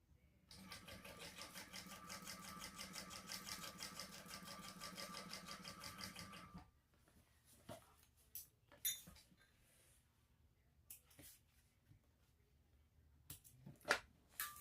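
A sewing machine runs steadily for about six seconds, basting a raw top edge closed at a narrow seam allowance on a sling bag, then stops, leaving faint clicks and handling noises.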